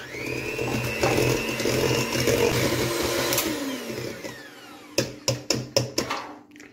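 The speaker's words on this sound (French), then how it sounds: "je vais continuer le mélange au batteur électrique" An electric hand mixer whisks cream for a homemade strawberry tiramisu, a close, steady whirring hum lasting several seconds, followed by a few sharp knocks or taps.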